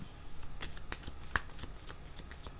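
A deck of tarot-style cards is shuffled by hand in a quick run of soft riffling flicks and taps, close and fairly quiet, before a card is drawn.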